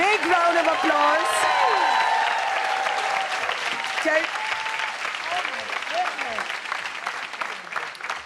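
A big round of applause from an audience as a guest is welcomed on stage at a comedy talk event: dense, loud, sustained clapping with scattered voices and cheers mixed in, easing slightly in level toward the end.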